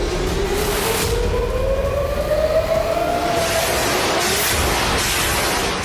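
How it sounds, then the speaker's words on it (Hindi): Air raid alert sirens wail across Tel Aviv, Israel, a loud rising and sustained tone that slowly bends in pitch over a dense background rumble, sounding distant and echoing. "इजराइल की राजधानी में एयर रेड अलर्ट के ये गूंजते हुए सायरन"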